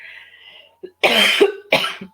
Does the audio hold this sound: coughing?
yes